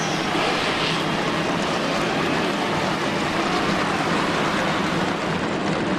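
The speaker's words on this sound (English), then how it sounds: "Cars fire up, we're ready to go." Stock-car engines fire up together for a sim-racing league race at Las Vegas, making a dense, steady, loud roar that holds without a break throughout.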